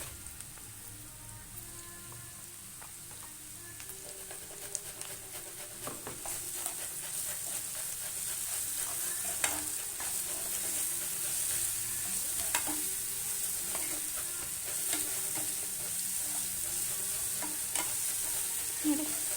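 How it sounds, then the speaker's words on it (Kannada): Garlic, cumin and green chilies frying on low heat for mango chitranna: a soft, steady sizzle with occasional light stirring clicks, continuous and fairly quiet. "ಬೆಳ್ಳುಳ್ಳಿ ಹಸಿಮೆಣಸಿನ್ಕಾಯಿ ಹಸಿ ವಾಸನೆ ಎಲ್ಲ ಹೋಗಬೇಕು ಅಲ್ಲಿವರೆಗೂ ಒಂದು ನಾವು ಜೊತೆ ಫ್ರೈ ಮಾಡ್ಕೊಳ್ಳೋಣ"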